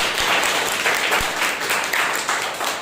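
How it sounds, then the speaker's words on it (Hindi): A Sunday morning church congregation gives a loud round of applause for God, many hands clapping close together in a thick, continuous burst with a few sharper claps standing out. "एक जोरदार ताली बजाएं परमेश्वर।"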